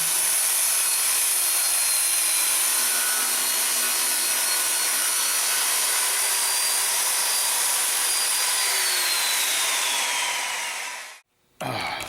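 Circular saw ripping plywood along a clamped straight-edge jig for cabinet making, a loud steady whining cut lasting about eleven seconds, then a brief drop and the motor spinning again.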